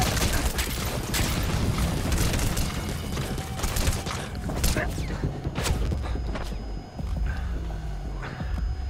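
Explosions and gunfire from the stealth-action game Metal Gear Solid V: The Phantom Pain, including a grenade blast, with sharp impacts and a busy, loud stretch of combat noise running throughout.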